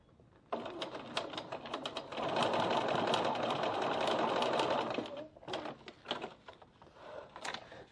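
Sewing machine stitching back and forth over the ends of a zipper on a bowler bag, a fast whirring rattle running for several seconds, then short stop-start bursts of stitching, close and clear with no talk.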